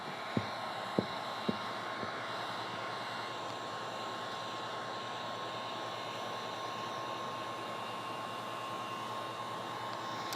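A heat gun blows steadily on window tint film to shrink it, giving a constant whooshing hiss that runs unbroken throughout, with a few faint clicks near the start.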